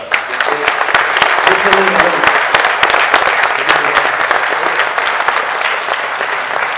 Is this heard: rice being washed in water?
no